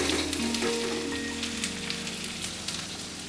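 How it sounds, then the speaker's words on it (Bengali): Spice paste (masala) with onion, garlic and salt sizzles steadily in hot oil in a kadai, a continuous close frying hiss with light stirring scrapes and no talk. "দিয়ে দিলাম একটু লবণ ভালো করে মশলাটা কষানো হোক"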